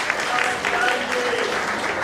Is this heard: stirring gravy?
no